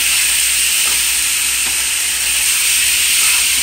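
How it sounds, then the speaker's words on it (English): Chicken for a Jamaican curry stir frying in a pot on a stove, a steady loud broadband sizzle and hiss holding evenly throughout with faint stirring scrapes and no talking. "So you just basically want to stir fry it until it's firm up."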